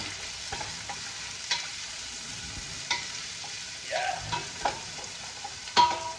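Onion cooking in a pan, a steady low sizzle of frying with occasional stirring scrapes and clinks of the utensil, close and moderately quiet.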